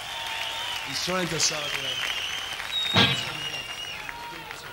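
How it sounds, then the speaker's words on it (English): Applause and crowd noise from a 1975 concert audience at the National Stadium in Dublin, cheering Big Charlie, run as a steady broadband wash under someone speaking into the microphone. "Give Big Charlie a big round of applause."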